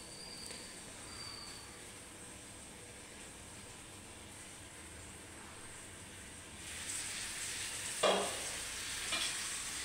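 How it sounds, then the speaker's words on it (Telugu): Chicken fry simmers in a pan with a low, steady sizzle, then scraping strokes of a spoon stirring it cut in near the end, one sharp clatter standing out. "మధ్య మధ్యలో ఇట్లా కలుపుకోవాలండి ఫ్రై కదా"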